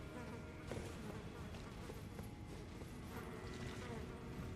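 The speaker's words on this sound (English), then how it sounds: "Sounds of the flies buzzing makes me think of Resident Evil 4." Flies buzz continuously in the Elden Ring: Shadow of the Erdtree video game, a faint steady insect drone laid under a muffled, low game ambience throughout.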